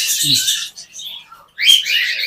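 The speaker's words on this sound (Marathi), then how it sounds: "जवळपास शंभर पक्षी आहेत" Several pet birds of various kinds, from a collection of about a hundred, chirp and twitter in high, bright bursts close by, with a short pause before the chorus resumes.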